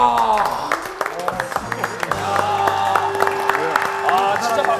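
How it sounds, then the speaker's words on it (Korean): An audience claps and cheers during a variety show challenge game, the applause steady and fairly loud across the moment with a few excited voices mixed in. "아, 진짜 박수가 나오네요, 이거는"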